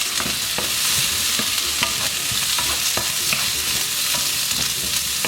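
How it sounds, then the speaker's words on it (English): Vegetables sizzle and fry in hot oil in a wok, a steady loud hiss with scattered crackles and stirring clatter throughout, no talking. "We're gonna put some oil. We're gonna fry our vegetables."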